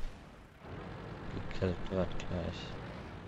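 Artillery rumbles and booms in World of Tanks, heard as a low thud at the start and distant blasts behind someone talking.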